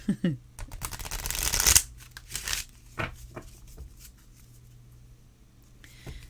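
Oracle cards being riffled and shuffled in a quick burst of crisp papery rattling, followed by a few softer taps and shuffles, close to the microphone.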